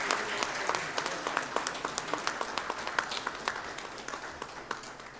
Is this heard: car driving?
no